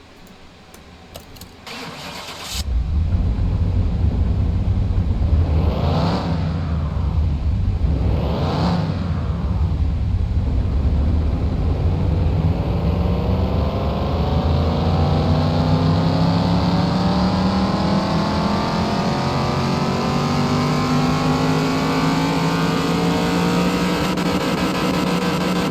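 Restored car with an 882-horsepower engine under test: it fires up after a few seconds and settles into a loud, steady roar, with two rising-and-falling revs early on and a sustained drone after that, and no talking.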